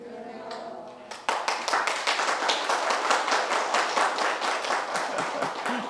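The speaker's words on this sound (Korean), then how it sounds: "북한같이 박수를 쳐" People clapping their hands in unison, a sharp, evenly timed rhythmic series of claps that starts suddenly after a moment of talk and continues steadily to the end.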